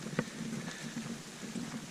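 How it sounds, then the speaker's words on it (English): Rain beginning to fall on the leaves of forest trees along the Ouachita Trail, a soft steady patter with scattered brief drop taps, fairly faint and continuous with no talk. "Right now I can just really hear it hitting all the leaves in the trees"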